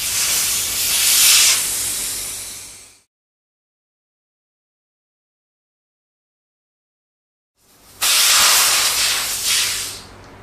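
Air hisses steadily out of a motorcycle tire as its valve cores are removed, loud and close, fading out after about three seconds; after a silent gap a second strong hiss bursts out and continues to the end.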